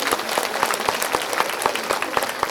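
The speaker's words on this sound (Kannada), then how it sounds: "ಅವ್ರಿಗೊಂದ್ಸಲ ಜೋರಾದ ಚಪ್ಪಾಳೆ" A small audience at a women's meditation gathering claps in a slow, even rhythm, each clap distinct and sharp, the beat keeping steady for a couple of seconds.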